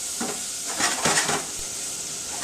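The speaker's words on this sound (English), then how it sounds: "As you can see, it's all frying together." A rice risotto base sizzles steadily in a hot pan while a utensil stirs and scrapes against it a few times.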